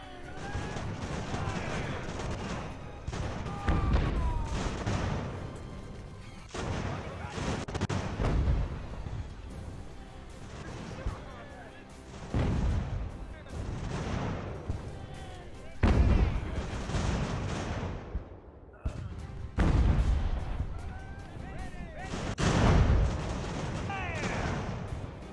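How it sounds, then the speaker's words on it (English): A naval cannon bombardment from sailing warships in the Ultimate Admiral: Age of Sail game: repeated deep booming volleys at irregular intervals, with rumbling echoes and smaller cracks in between over a continuous battle din. "Let's keep this bombardment going."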